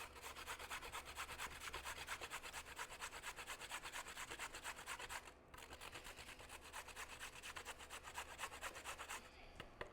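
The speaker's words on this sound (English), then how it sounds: "Just grate straight into the bowl." A carrot grated straight into a bowl, a fast continuous rasping scrape repeated in quick even strokes, close but quiet, with one brief pause midway.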